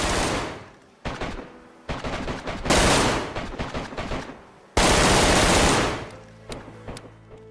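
Gunfire in the video game DayZ: several loud bursts of rapid shots with ringing decay, separated by brief pauses, then a final short string of single shots over faint ambient hum.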